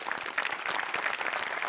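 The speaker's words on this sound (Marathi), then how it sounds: "एकदा टाळ्या वाजवल्या पाहिजेत" A live studio audience claps steadily in sustained applause for a performer on a Marathi comedy show, with dense, even clapping throughout and no talk over it.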